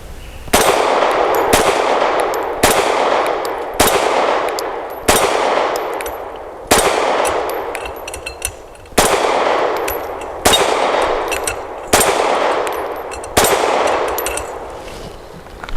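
A Grand Power Q1S pistol fires about ten rounds, each a loud, sharp crack with a ringing decay. The shots are evenly spaced a second or more apart, and no one speaks.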